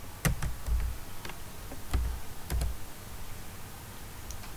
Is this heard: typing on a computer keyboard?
yes